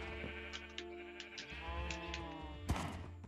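Sheep on a Minecraft farm bleat in a steady, wavering game cry that carries for about three seconds, with a brief soft thump near the end and no talking.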